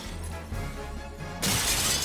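Glass shattering in the animated film Beauty and the Beast, a loud bright crash that bursts in near the end over a steady background of score and ambience.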